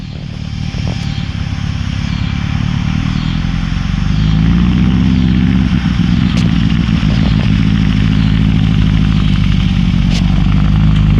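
A 1969 hot rod Baja Bug cruising around a yard at night, its air-cooled engine clattering and droning steadily throughout, growing louder and throatier as it revs and passes close.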